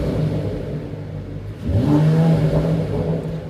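Mercedes E53 convertible engine revving up to its limiter, a short close burst of rising engine note that jumps louder halfway and holds a droning tone briefly, with no talk.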